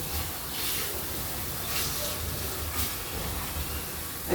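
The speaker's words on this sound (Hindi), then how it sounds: "तो मसाले को हम थोड़ा और भूनेंगे।" Masala spices frying in oil in a pan for chole give off a soft, continuous hissing sizzle, fairly quiet and even throughout.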